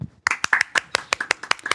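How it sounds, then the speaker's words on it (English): A brief scattering of hand claps from just a couple of people, sharp and close, uneven in rhythm, lasting under two seconds. "Matheson, let's give a very two-person small round of applause for our friend Jon Kilmer."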